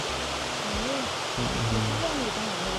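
A waterfall at Thara Rak in Ban Chedi Kho, Phop Phra, Tak province, roars as a steady broadband rush in the evening, with a faint low hum and a few tonal sounds underneath.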